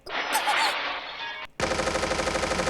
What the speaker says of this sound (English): The sound of gunfire filled the entire room.